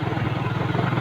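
A manual-clutch motorcycle riding along a rough village road, its engine putting out a close, loud, pulsing throb with a quick regular beat that stays steady throughout.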